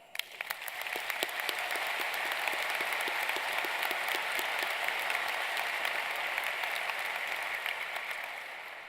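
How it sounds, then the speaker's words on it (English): Sustained applause from a sizable crowd at a university commencement ceremony, steady dense clapping that swells quickly and holds for several seconds before tapering slightly at the end. "give them a round of applause"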